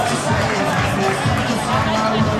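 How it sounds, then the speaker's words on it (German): Crowd at a German club sports event cheers and claps for a competitor about to start, a dense, steady wash of noisy applause with shouts and chatter mixed in throughout. "Und Applaus."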